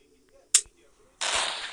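A bomb explodes in a Melon Playground clone video game: a sharp, bright blast, then after a short gap a loud, sustained burst of roaring noise that continues to the end.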